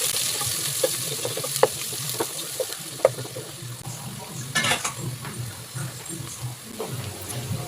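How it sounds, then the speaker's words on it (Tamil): Onions sautéing in oil and ghee with whole spices such as cardamom and star anise for a simple chicken biryani, a steady low sizzle broken by occasional stirring scrapes and clinks of a spoon against the pan, with no talk. "வெங்காயம் போட்டு வதக்கி விட்டுப்போம்."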